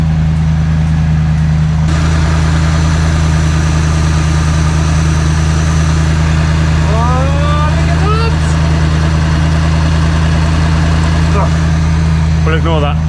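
A V8 engine idles with a steady, loud low throb and constant hum throughout. A voice talks over it, with brief whistling squeaks near the middle.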